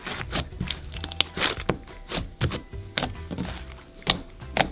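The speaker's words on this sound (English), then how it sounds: "So let me just knead this together." Old slime is worked and kneaded by hand, giving a run of close, wet squelching and crinkling presses with irregular rhythm and no talking.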